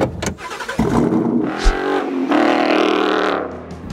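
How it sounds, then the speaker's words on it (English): A 2018 Ford Mustang with an AWE Touring catback exhaust revs up close, a loud, throaty engine roar that rises and swells over a few seconds with no talking. "we're out here in the 2018 Mustang, equipped with the AWE Touring Catback"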